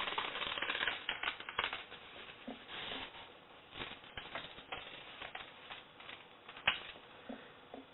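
Scissors snipping through paper while cutting out a heart-shaped template, a close, irregular run of crisp cuts and rustles with brief pauses.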